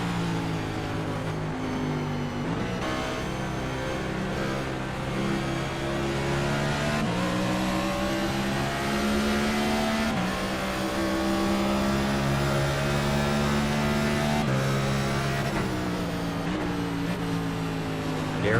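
An onboard stock car engine in iRacing at World Wide Technology Raceway roars loud and close throughout, its steady droning pitch rising and falling as the car runs through the laps.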